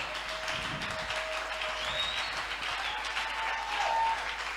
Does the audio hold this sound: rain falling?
no